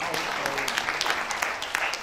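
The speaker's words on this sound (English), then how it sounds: "that round of applause should be a bit louder than that" Audience applause at a management lecture in Nigeria, a steady patter of many hands clapping, moderately loud and continuous, with voices faintly mixed in.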